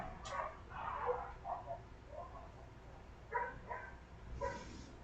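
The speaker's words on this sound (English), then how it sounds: "And there's some dogs" Several dogs bark outdoors in a rural part of Trinidad, near Moruga. The sharp barks come in irregular clusters at a moderate distance over steady background noise, with a pause in the middle.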